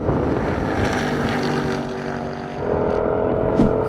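Engine of a moving Project 8 car, a steady loud drone with harmonic whine, rising slightly in pitch and level partway through, with wind rush throughout and no speech.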